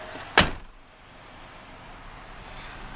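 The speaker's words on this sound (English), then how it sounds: "So I'll just shut the door and leave the window down." A 2011 Ford Crown Victoria car door slams shut once, a sharp close thud followed by quiet cabin ambience.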